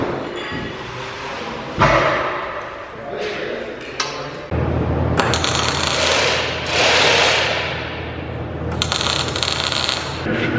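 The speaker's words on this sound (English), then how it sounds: "We can lift the pallet with the skid steer." A skid steer lifts a pallet during a planter rebuild, with a steady low engine rumble under sharp metallic clanks and thumps, loud and close, starting part-way through.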